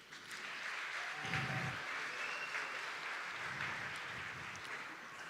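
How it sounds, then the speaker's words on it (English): An audience at a distinguished alumni awards ceremony applauds an honoree, steady clapping heard at moderate distance with a faint low murmur beneath. "As a performer, she has appeared in over 50 productions that deserves a round of applause."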